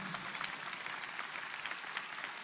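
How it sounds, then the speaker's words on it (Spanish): A church congregation applauds after a call from the pulpit, a steady, diffuse patter of many hands filling the room at moderate-to-faint level with no voices on top. "Alguien aplauda la palabra del Señor"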